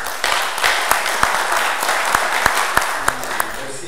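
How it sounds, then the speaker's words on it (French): Audience at a French engineering school ceremony applauding steadily, a dense wash of clapping with a few sharper individual claps standing out, fairly close and sustained throughout. "Merci de l'applaudir"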